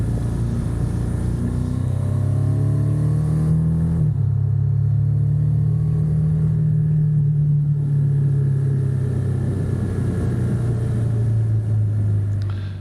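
Motorbike engine droning loud and close on a German road while overtaking another bike, a steady rumble with a rising and shifting tone as it accelerates past.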